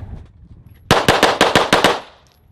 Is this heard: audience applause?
no